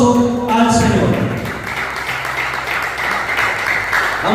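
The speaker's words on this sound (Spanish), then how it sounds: "un fuerte aplauso al Señor" A church congregation claps loudly for the Lord during a sermon, the applause continuous under a voice speaking and sustained tones from a keyboard or organ.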